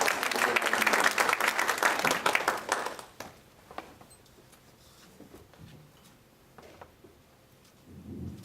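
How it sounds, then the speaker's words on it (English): An audience at a women's forum panel event applauds for its organizer, a dense burst of clapping for about three seconds that quickly thins to a few scattered claps over quiet room noise. "let's give a big round of applause to her for organizing this great event"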